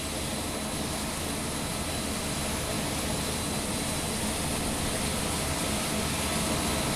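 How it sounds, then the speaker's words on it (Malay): C-130 military transport aircraft engines at a repatriation ceremony, a dense continuous roar with a broad hiss, loud and unbroken for the whole stretch with no voices. "Pesawat C-130 ini akan menerbangkan pulang jenazah dua adik-beradik, Allahyarham Muhammad Afzal Tambi"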